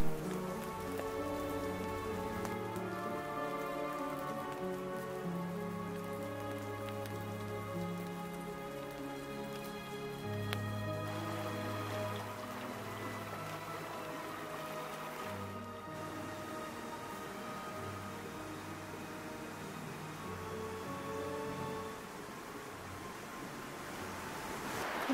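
Steady rain falls on a mountain setting, a soft continuous patter on surfaces with scattered drops heard up close and no voices.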